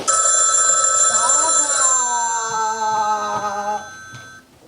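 An old-style telephone bell rings loudly in a garage in a continuous trill that then fades out, while a voice briefly speaks over it.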